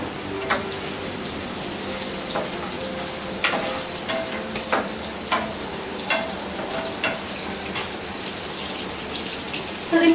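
Onions added to a hot pan for Chicken 65 give a soft steady sizzle, broken by repeated scraping and stirring clicks of a spoon against the pan, quiet and close.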